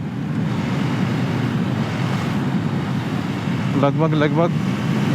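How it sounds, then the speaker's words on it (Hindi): Strong outdoor wind roars steadily across the microphone as a loud, constant rushing buffet, with a brief voice-like tonal sound near the end. "आज तो बड़ी तेज़ हवा लग रही है।"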